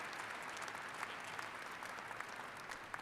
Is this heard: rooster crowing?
no